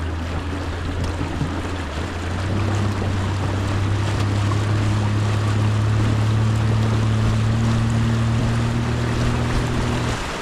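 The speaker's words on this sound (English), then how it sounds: "You can hold, and I'm slowly just gonna increase." A boat driven by a DIY 26hp electric outboard motor speeds up: a steady motor whine climbs in pitch over rushing water and wind noise, loud and close throughout.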